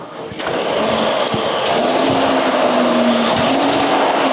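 The air flywheel of a ski erg spun up during a workout, giving a loud, steady whirring roar with a faintly rising hum that holds for several seconds.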